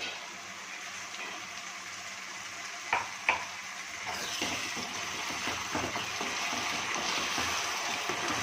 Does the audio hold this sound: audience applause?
no